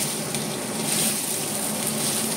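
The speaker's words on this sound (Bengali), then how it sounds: "এবার আমার ধুয়ে জল ঝরানো চালটা দিয়ে দিচ্ছি।" Washed, drained wet rice hits hot ghee in a pan with a loud, steady close sizzle that hisses continuously, no voices present.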